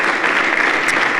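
A church congregation applauding in a dense, loud, continuous wash of clapping hands that fills the whole moment.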